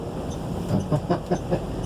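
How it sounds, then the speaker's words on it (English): Long freight train in Canada rolling past, a steady low rumble with faint rhythmic clicks from the wagons, moderately loud and close, with no voices. "This is why we stop here, so you can see the train."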